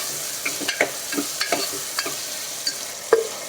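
Onions sautéing in a pan as tomatoes are added for a tamarind curry, a soft continuous sizzle punctuated by a dozen or so short spatula scrapes and stirs at a moderate pace.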